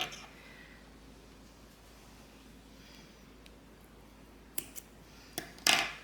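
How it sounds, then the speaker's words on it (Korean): A few sharp snips near the end, after a quiet stretch, as scissors cut the leftover yarn end on a crocheted cherry-blossom popcorn mesh bag. The cuts are close, brief and crisp, with no talking. "그리고 요 남는 거 잘라주세요."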